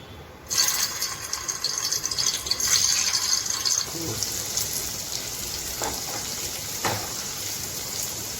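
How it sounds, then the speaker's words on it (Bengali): Gram flour gatte dumplings drop into hot oil for a Rajasthani gatte pulao, and a loud, dense sizzle erupts at once. It stays steady for a few seconds, then settles into a quieter, crackling fry with a few soft knocks. "এবারে তেল গরম হয়ে গেছে আমি গাট্টেগুলো দিয়ে দেবো"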